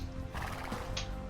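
Cavalry horses in Age of Empires II whinny loudly in a single neigh, with clip-clop hoofbeats and game sounds underneath, close and clear.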